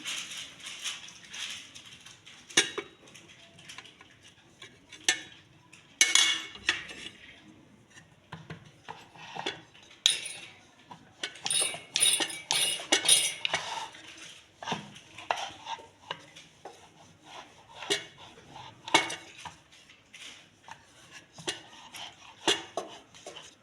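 Methi thepla dough being rolled out in a home kitchen, with soft repeated rolling-pin scrapes and taps on the board in an irregular rhythm, close and moderately loud, no talking.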